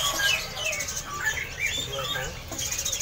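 Caged robo-robo birds at Pramuka bird market in Jakarta chirp in a steady dense chorus of quick high tweets over market background noise, with a faint voice in the mix.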